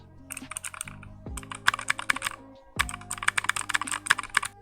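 A cheap Easy Tech mechanical keyboard being typed on close up, two quick bursts of rapid clacky keystrokes with a short pause between, no talking.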